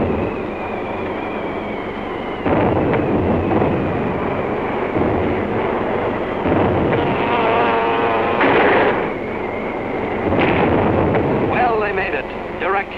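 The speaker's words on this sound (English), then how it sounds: "Direct hits with those 600-pounders of TNT blowing up right in Hirohito's face." 600-pound TNT bombs from a wartime aerial bombing raid burst in a series of heavy, rumbling blasts, loud and closely spaced, with the layered roar of aircraft and narration running over them.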